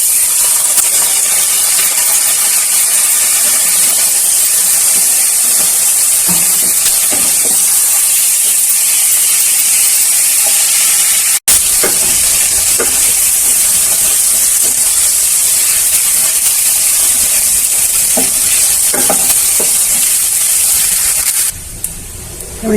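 Rice tipped into a hot pot with cinnamon and cloves for a vegetable pulao, giving a loud, sustained hissing sizzle that runs steadily throughout with faint scraping.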